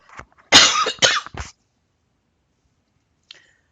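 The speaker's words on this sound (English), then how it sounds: "Hold on, I have to cough" A short fit of two or three sharp coughs close to the microphone, followed by silence and a faint click.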